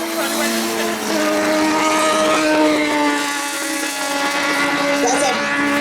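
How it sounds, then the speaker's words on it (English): A race car with a motorcycle engine whines at high revs steadily at close range, pitch rising and dipping slightly, with a voice speaking over it. "That's a motorcycle engine."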